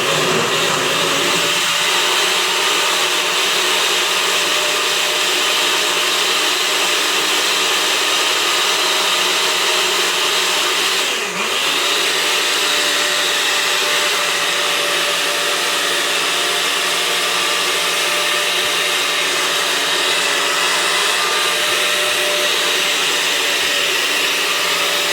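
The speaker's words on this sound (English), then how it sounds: "I'm just going to blend it, guys." A kitchen blender runs continuously for about 25 seconds with a loud, steady broadband whir, a brief dip in pitch near the middle as the load shifts, then resumes evenly without pause.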